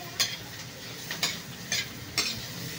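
Ampalaya frying in a pan, with a steady soft sizzle under four sharp scrapes of a utensil stirring against the metal, fairly close.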